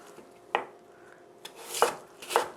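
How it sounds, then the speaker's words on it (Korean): Knife cutting radish into small pieces on a board for a spicy tofu stir-fry, with a few separate sharp chops spaced out over a couple of seconds, fairly close and with no talk. "이렇게 무도 좀 이렇게 작게 썰어주면 좋아요."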